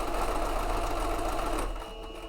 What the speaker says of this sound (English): I'll just be sewing along